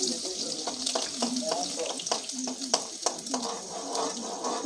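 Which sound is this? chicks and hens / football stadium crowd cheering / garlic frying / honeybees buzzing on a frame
garlic frying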